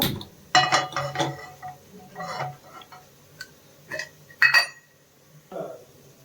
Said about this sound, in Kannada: ಈಗ ಮೊದಲಿಗೆ ಪ್ಯಾನ್ ಇಟ್ಕೊಂಡು ಸ್ಟವ್ ಆನ್ ಮಾಡ್ಕೊಳ್ಳೋಣ